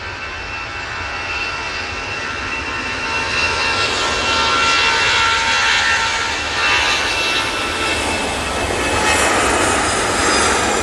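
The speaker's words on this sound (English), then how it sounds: "Aer Lingus A320 returning back to Dublin." Aer Lingus Airbus A320 jet at Manchester Airport, a steady engine roar with a high whine that grows louder midway and stays sustained, with no voices.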